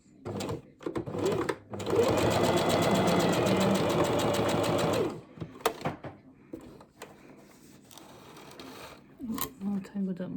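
A sewing machine runs in a steady whirring burst for about three seconds as it stitches back over a gap in a seam, then stops, followed by softer handling clicks and a quiet voice.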